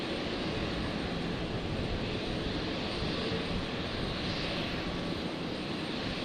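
An airliner rolls and takes off from runway 01 left at Brisbane Airport with a dense, steady engine roar, loud and broad, sustained without pause under no talk.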